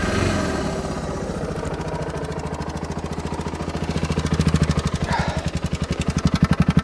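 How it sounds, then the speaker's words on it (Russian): A motorcycle engine fires up and settles into a steady, rapid idle, its even pulsing running close and fairly loud through the clip, used to power a pump for inflating floats on a homemade water bike. "заводим мотоцикл."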